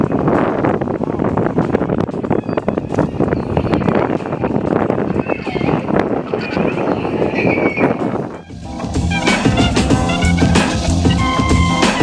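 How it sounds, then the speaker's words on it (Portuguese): Strong coastal wind at Sloop Cove near Churchill, Manitoba, buffets the microphone in heavy gusts, roaring and rumbling, then briefly dips before more blustery noise and clattering continue. "Tá ventando muito, muito, muito."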